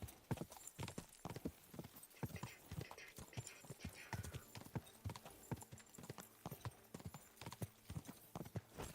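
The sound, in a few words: horse hooves galloping in Kingdom Come Deliverance 2 video game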